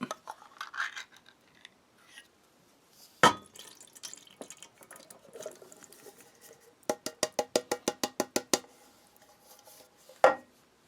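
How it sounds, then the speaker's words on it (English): Contents of an Italian combat ration (Razione Viveri Speciale da Combattimento, Module F, around 2014) poured into a metal mess tin. Close metallic clinks and taps, then a quick run of even rattling clicks and one last sharp knock, with no talking. "so let's pour this right in there and get this heated up"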